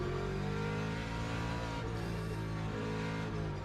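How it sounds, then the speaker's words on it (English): Car engine at a race-track prep session, revving steadily and continuously toward the shift point, a dense, loud, sustained engine drone with no talk. "Is that the shift point? Revving all the way out."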